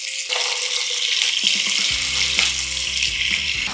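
Chicken legs fry in hot oil with curry leaves, a steady loud sizzle that fills the whole stretch, while a low hum comes in partway through. Nobody speaks.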